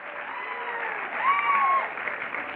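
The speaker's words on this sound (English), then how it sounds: "Let's give her a round of applause." An audience at a multicultural leadership day opening session applauds, a muffled, steady patter of clapping with some cheering and a voice rising briefly in the middle.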